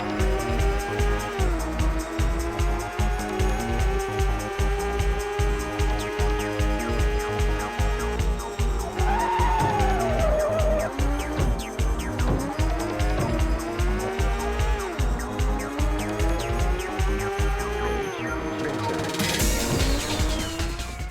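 Race cars in a NeGcon-controlled racing game, with a loud, steady engine drone that rises and falls in pitch, several drawn-out tire squeals through the middle, and a burst of noise near the end.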